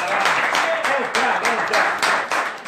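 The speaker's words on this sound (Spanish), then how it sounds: "Fuerte el aplauso" Audience applause at a live music show in La Rioja, strong clapping that swells in rhythmic pulses while a voice speaks over it.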